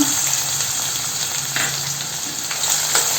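Onion frying in hot oil produces a close, continuous sizzle with scattered crackles and small pops over a few seconds, with no speech.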